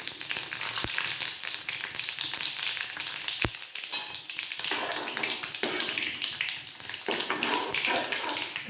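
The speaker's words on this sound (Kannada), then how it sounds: "ಇವಾಗ ಇದೇ ಎಣ್ಣೆಗೆ ಸಾಸಿವೆ ಮತ್ತು ಕಡಲೆಬೇಳೆ, ಒಂದು ಒಣಮೆಣಸಿನ್ಕಾಯಿ" Mustard seeds, chana dal and a dried red chilli fry in hot oil for curry leaves fried rice, giving a steady loud sizzle with crackling pops and a couple of sharp taps of a spoon on the pan.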